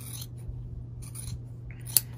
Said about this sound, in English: take your scissors, your standard everyday scissors. Just go ahead and just trim it down